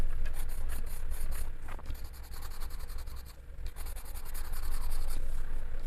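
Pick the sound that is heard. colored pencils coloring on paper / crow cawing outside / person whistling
colored pencils coloring on paper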